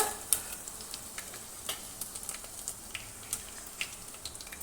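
Dried red chilies sizzle and crackle in hot oil after mustard seeds have popped, with scattered light pops and soft stirring heard close by and no talking, while onion theeyal is cooked.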